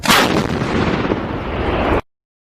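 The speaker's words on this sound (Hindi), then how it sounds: "ATAGS मतलब advanced towed artillery gun system." An ATAGS Advanced Towed Artillery Gun System firing: a single loud, close blast that roars on for about two seconds before cutting off abruptly, with no voices.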